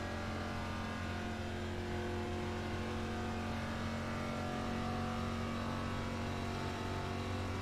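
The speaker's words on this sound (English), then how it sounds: "the pace car is not too far behind us" Race car engines roar continuously in a Talladega stock car racing video game, a loud steady drone of many motors with no break.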